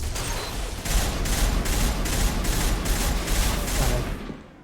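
Video game gunfire from Mass Effect Legendary Edition: a rapid, evenly spaced string of about eight shots rattles over dense background noise, then fades out.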